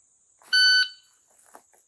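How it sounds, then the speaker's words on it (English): An electronic shooting timer buzzer gives one loud, steady tonal beep lasting about a third of a second, followed by faint handling noise afterward. "Trying to get ahead of the buzzer."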